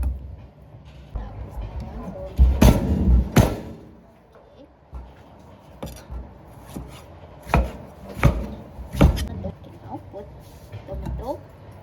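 A salmon fish head being chopped for sinigang, heavy irregular thuds of a blade striking a board, loud and close, with people talking in between.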